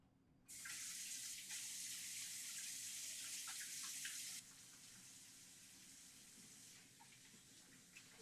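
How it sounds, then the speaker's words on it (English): Running tap water while hands are washed at a kitchen sink after meal prep: a steady hiss starts abruptly, stays loud for a few seconds, then drops to a softer flow with faint splashes. "I'm just gonna clean this up and wash my hands really quickly"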